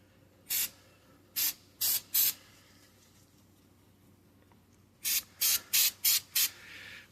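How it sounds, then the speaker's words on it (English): Close, loud hissing bursts of an aerosol anti-seize spray can aimed at a CV half shaft's splines: four short blasts, a pause, then five more in quick succession. "Aerosol anti-seize. With the left hand."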